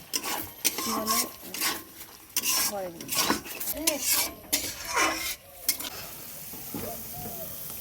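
Prawn masala curry with garam masala cooks in a pan in a village kitchen: a spoon scrapes and stirs in repeated strokes over a sizzle, with metal clinks, and the stirring fades to a quieter simmer near the end.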